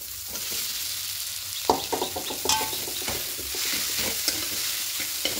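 Boiled potato being stirred into a frying spice mixture for cheese paratha filling, with a steady sizzle and several sharp scraping clinks of a spatula against the pan close up.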